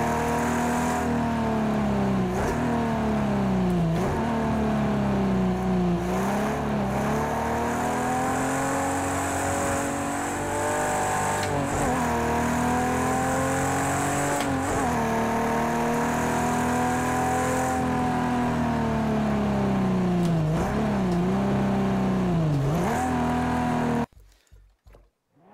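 A Ferrari race car engine in Project Cars 2 revs and shifts continuously, pitch climbing and dropping through gear changes, loud and steady, then cutting off abruptly at the end.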